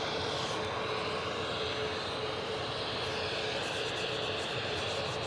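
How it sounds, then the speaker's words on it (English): An Airbus A320neo airliner passes near Edinburgh Airport, its engines giving a loud, steady roar that fills the whole stretch. "Good old A320 Neo on its way to Birmingham."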